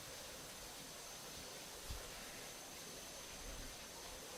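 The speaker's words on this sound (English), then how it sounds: "you'd have the waterfall right behind us." Continuous broadband rush of a waterfall beside a tunnel on a Massachusetts hiking trail, a steady hiss at moderate level that fills the background evenly with no breaks and no voices.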